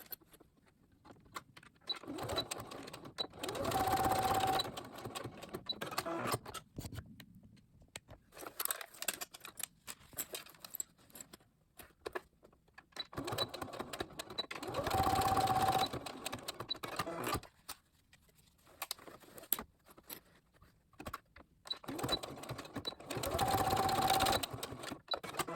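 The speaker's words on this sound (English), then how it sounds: "I sew that part right there, see? That's the inside of it." A sewing machine stitching a fabric face mask in three sustained runs of rapid, even whirring, separated by quieter pauses with small handling clicks and fabric rustle.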